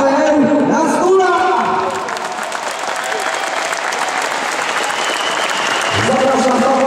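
Loud, dense audience applause fills an indoor MMA and kickboxing gala hall in Bydgoszcz, continuous throughout, with an announcer's voice over the clapping.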